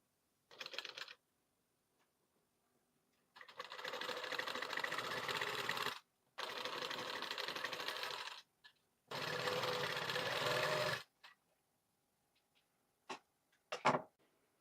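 A sewing machine stitching piping onto a blouse runs in three sustained whirring bursts of a few seconds each, with brief pauses between. Short taps and clicks from handling the fabric come before and after.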